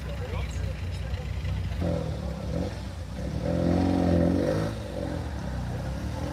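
A Vauxhall Corsa rally car engine revs hard with a rough, throaty exhaust note, rising and falling over a few seconds, fairly close, with other engine noise around it.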